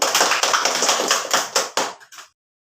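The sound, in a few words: small group clapping hands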